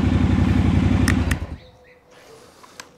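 A Triumph Scrambler 1200 X motorcycle engine runs loud and close for about a second and a half, then cuts off, leaving a quiet background with a few faint clicks.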